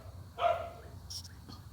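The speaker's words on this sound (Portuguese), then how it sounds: "Ai, desculpa, meu cachorro." A pet dog lets out a single short bark, fairly faint and from a little distance, then a couple of quieter sounds follow in a calm indoor room.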